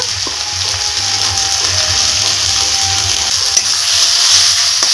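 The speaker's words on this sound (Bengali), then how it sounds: "এখন আমি নাড়াচাড়া করে কুটটা রান্না করে নিই" Grated potato filling with turmeric and salt cooks in a pan while being stirred. A continuous close sizzle runs under faint scraping strokes, with no voices.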